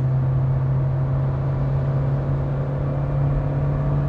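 Fiat Argo Trekking engine droning at high revs, around 3,600–3,700 RPM near 120 km/h, heard from inside the car as a steady, loud low hum with constant road and wind rumble throughout.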